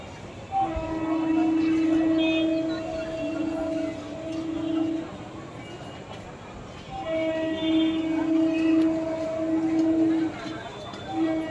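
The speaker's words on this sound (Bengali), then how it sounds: "এখন একের পর এক ট্রেন আসবে আর যাবে" A train rolls past with a steady rumble, and its horn sounds in two long, loud, sustained blasts separated by a short pause.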